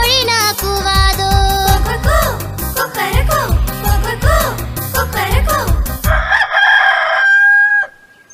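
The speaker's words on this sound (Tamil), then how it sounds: "கோழினா கூவாதோ, கோழினா கூவாதோ." A cartoon rooster crows loudly and repeatedly over a bouncy nursery song with bright music, the last long crow drawn out and ringing alone before the track cuts off.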